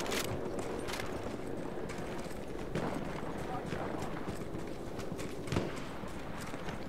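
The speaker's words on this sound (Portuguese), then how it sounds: "Tem um cavalo aqui, então coisa boa não é." Horse hooves clop in rapid, repeated steps in the video game Battlefield 1, a moderately loud run of hoofbeats over game ambience with someone talking over it.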